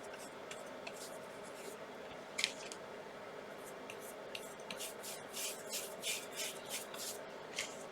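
A paintbrush drags raw umber paint left to right across the lower part of a canvas, producing soft, steady scratchy strokes with brief louder brushes, close and alone, with no talking.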